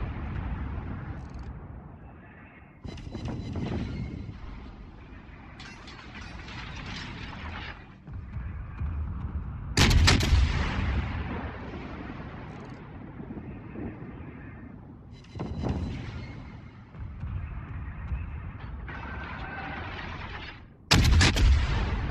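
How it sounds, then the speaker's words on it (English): Anti-aircraft guns of the cruiser USS Cleveland firing in World of Warships, a steady rattling barrage with sharp louder bursts recurring throughout, close and dense. "Oh yeah, defensive anti-aircraft fire."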